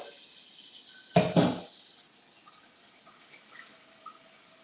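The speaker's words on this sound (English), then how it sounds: "I'm going to put some water in it." Tap water runs into a cleaned cooking pot for about a second in a short loud burst, then fades to a quieter trickle and faint room noise.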